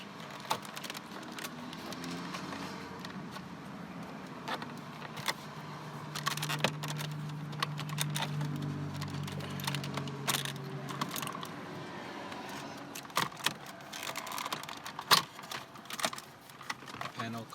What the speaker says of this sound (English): We'll begin the disassembly process by removing the air vent panel here with the start button.